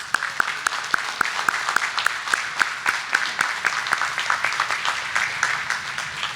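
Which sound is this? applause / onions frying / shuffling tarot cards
applause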